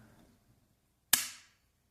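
A single sharp plastic snap from the trigger of a WE Glock 17 Gen 3 airsoft pistol hitting its stop, close and clean against near silence, with a faint trailing ring.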